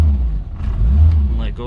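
A Classic Mini with single-point injection and a running problem, its engine revving under throttle as a steady, loud low rumble that climbs near the end. A voice is faintly present.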